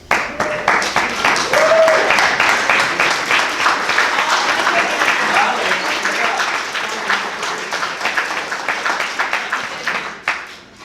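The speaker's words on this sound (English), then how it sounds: "can we give them a huge round of applause?" A talent show audience claps and applauds for the acts, a dense, loud and steady patter of many hands that continues for about ten seconds before it tapers off near the end.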